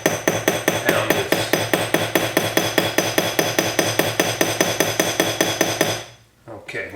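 Rapid, steady hammer blows on a rivet set into an oxidized sterling silver comfort-fit cuff bracelet with 18K gold rivet accents, about five strikes per second for six seconds, then stopping into near quiet.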